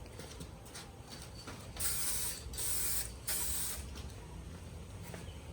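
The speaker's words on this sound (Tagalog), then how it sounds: "It's supposed to be spray paint." Spray paint hisses onto a table in a few short bursts, three bright sustained sprays close to the mic with brief pauses between, over a quiet room background.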